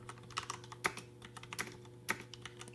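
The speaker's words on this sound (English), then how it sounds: "this is what it sounds like with me typing lightly" Light typing on a keyboard with Cherry MX Black switches: soft, irregular key clicks in quick bursts, with a few sharper strokes standing out over a steady low background hum.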